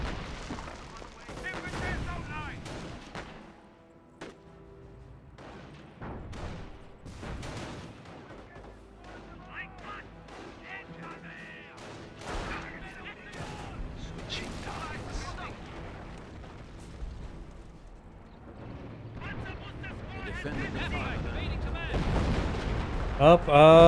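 Half-tracks firing in a Company of Heroes battle, scattered gunshots and heavier reports spread through a long stretch of combat noise, growing denser and louder toward the end.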